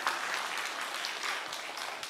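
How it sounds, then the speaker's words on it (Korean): Steady applause from a church congregation at a seminar, dense and even with no voices rising above it, sustained for about two seconds. "주일학교 120명 박수치고."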